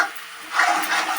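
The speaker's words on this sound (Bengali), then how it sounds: "এটা দিয়ে আমি এবার কিছুক্ষণ কষতে থাকবো। আমাদের মশলাটাকে ভালো করে কষতে হবে।" Spice paste for a Bengali katla kalia fish curry being stirred and fried in a pan, giving a soft steady sizzle with faint scraping as the paste is turned, close and without talk.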